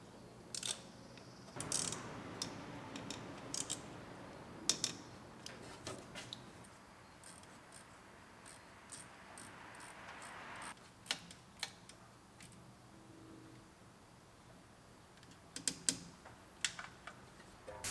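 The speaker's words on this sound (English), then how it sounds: "we can reach up there and tighten up our bolts" Bolts are tightened on a Chevrolet Silverado truck during a rebuild: scattered, sharp mechanical clicks and ticks of a wrench come at irregular intervals over a quiet background.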